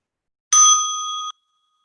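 A single clear bell is struck once for a mindfulness exercise, ringing with bright sustained tones for under a second before cutting off, alone in silence.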